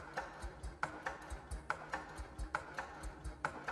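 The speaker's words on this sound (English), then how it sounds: "Kind of sounds like a ticking clock." A synthesized ticking like a clock, a steady, even rhythm of sharp clicks repeating about twice per second, fairly quiet with no voices.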